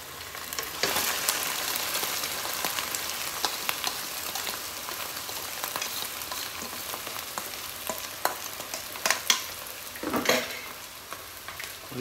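A spoon stirring rice into chutney frying in a pan for zarda, a steady sizzle with scraping stir strokes and occasional louder clinks, close and alone.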